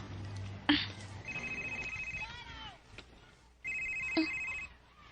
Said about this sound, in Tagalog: Kinsa man ang cellphone?